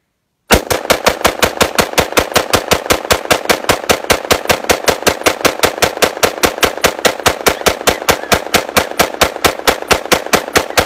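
Rapid rifle fire from 77 grain custom competition Nosler rounds fed by a 60-round Magpul magazine, a loud, sustained burst of evenly spaced shots that runs unbroken for about ten seconds.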